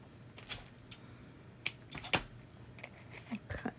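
Quiet paper cutting with scissors at a craft table, several short crisp snips at irregular intervals, close and soft against a faint room background.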